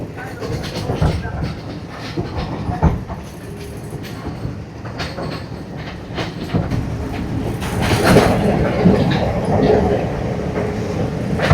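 A Sri Lankan hill train runs slowly along a winding mountain track, its carriages rumbling and clattering steadily with occasional sharp metallic clicks, loud and continuous throughout.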